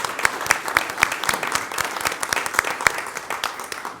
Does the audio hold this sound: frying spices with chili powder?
no